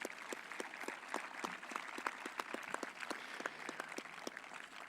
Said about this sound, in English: we'd like to give a round of applause to thank them for all they do for all of our students